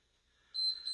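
A single sharp, high electronic beep starts abruptly halfway through and holds steady to the end over near silence.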